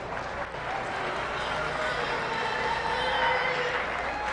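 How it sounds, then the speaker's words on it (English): A crowd at a youth fair livestock show gives the exhibitors a round of applause, a broad wash of clapping and crowd noise that holds fairly level, swelling slightly near the end, with an arena hum beneath it. "Let's give these exhibitors a round of applause."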